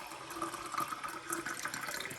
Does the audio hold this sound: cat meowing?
no